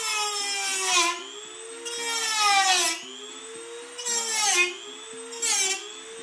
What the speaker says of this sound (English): The reason we're cutting through with the Dremel tool